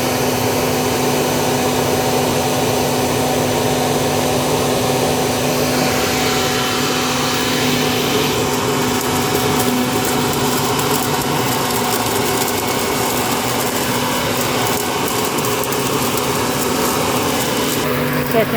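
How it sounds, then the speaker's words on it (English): A Toro leaf vacuum sucks up leaves from delicate ground cover, giving a loud continuous high-pitched motor whine with a steady airflow roar that holds throughout. "So to avoid that, I use this leaf picker-upper. It sucks it up, man."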